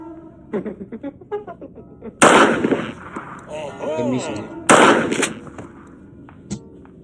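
Two loud, sharp gunshots ring out a couple of seconds apart in the Granny V1.8.1 mobile horror game, with softer game sounds in between.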